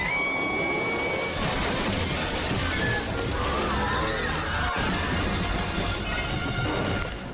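Loud, dense crashing and smashing from a runaway train wreck in a Family Guy cartoon, metal and debris tumbling continuously with rumbling, sloshing noise throughout.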